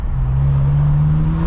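A BMW M6 revving with its turbos spooling: a loud, steady, close engine drone climbs slightly in pitch, with a faint high whine rising above it, and no voices.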